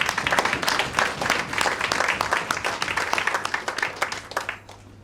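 Dense applause from the crowd at a club installation ceremony, honouring outgoing president Dwayne Cargill, steady and loud for about five seconds before thinning out at the end.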